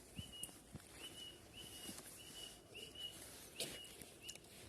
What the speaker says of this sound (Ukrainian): тихо, пташки співають